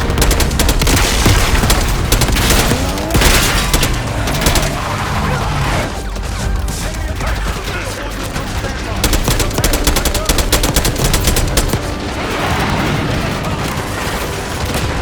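Dense, loud bursts of automatic and rifle fire with booms and crashes rage almost without pause during an assault on Saddam Hussein's palace in Call of Duty Black Ops 6 on PS5, and battle shouts break through the din.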